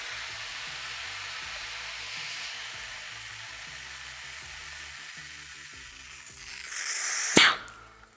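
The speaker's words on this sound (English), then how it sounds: "And then we will hook up our vacuum generator" A vacuum generator for a PipePatch ONE no-dig pipe repair packer runs with a steady airy hiss over a rhythmic low thumping, then swells and ends in one sharp, loud burst of rushing air.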